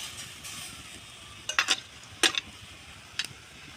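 Turmeric and mustard paste loosened in water cooking in a pan for an oil-free okra dish, a soft low simmer broken by three or four short clattering stirs of a utensil against the pan.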